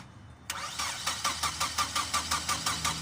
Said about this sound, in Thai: สตาร์ทดูนะติดไหม